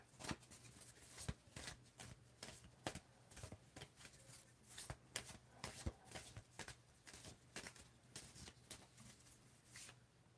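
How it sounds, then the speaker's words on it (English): Tarot cards are shuffled over and over in a quiet room, a soft rapid riffling repeating in short bursts. "as I shuffle these cards, I want you to tell me when I need to stop shuffling"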